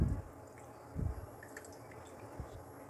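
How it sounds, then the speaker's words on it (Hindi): Bitter gourd is washed by hand in water, producing a few soft splashes and drips at irregular intervals, quiet and close in a calm kitchen. "और इसको दो पानी से हम धोएंगे जिससे कि हमारे जो करेले का कड़वापन और जो हमने नमक लगाया था उसे अच्छी तरीके से ये निकल जाए।"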